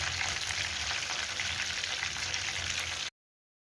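Fish fries in oil for a Lahori street-style fish fry, with oil spooned over the fish. A dense, steady crackling sizzle sounds close and even, then stops abruptly into silence, with no voices.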